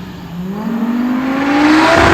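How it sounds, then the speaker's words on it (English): A five-cylinder engine swapped into a car revs up steadily and loudly, its pitch climbing over about two seconds before cutting off abruptly, with no talking. "I'm very happy with the sound of this engine"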